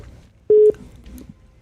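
A single short electronic telephone tone sounds loudly for about a fifth of a second on a call-in show, then low murmuring room noise continues.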